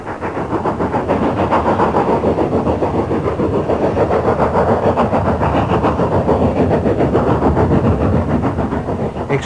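A steam goods train labours up the Shap incline in Cumbria, giving a loud, continuous, rhythmic chuffing and rumble that stays close and steady throughout.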